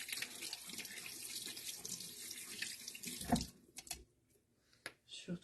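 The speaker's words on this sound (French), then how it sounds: "Je rince mes mains" Tap water runs steadily into a sink as hands are rinsed beneath it, a close continuous splashing stream that stops partway, leaving a few drips and small handling sounds.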